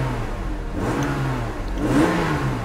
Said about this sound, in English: I am going to play with the car for a little bit, rev it.